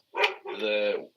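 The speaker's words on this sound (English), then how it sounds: "Oh my god, my dogs are barking." A Labrador gives two quick barks, the second one drawn out, fairly close and with no other sound.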